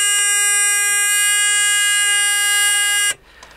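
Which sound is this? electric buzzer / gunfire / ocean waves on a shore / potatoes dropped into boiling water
electric buzzer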